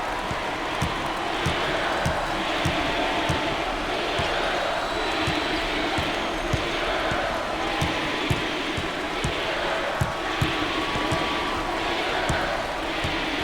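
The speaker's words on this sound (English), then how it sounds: "The crowd begins to chant." A college basketball arena crowd, St. John's Red Storm against Marquette Golden Eagles, chanting in a steady, loud roar with rhythmic pulses, sneaker squeaks and ball bounces cutting through.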